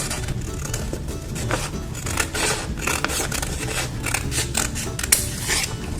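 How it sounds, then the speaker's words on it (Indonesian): Scissors cutting folded paper into a heart shape for a children's craft, close rhythmic snips and papery rustles repeating steadily, with no talk. "lalu kita gunting."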